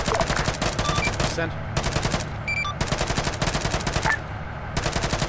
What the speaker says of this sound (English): see if you can use machine gun